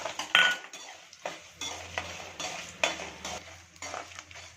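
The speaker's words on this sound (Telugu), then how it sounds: "ఆవాలు వేసుకొని వేపుకోవాలి" Mustard seeds fry in a pan for raw tamarind pulihora, with scraping stirring strokes and soft crackling in intermittent bursts, close by and with no talking.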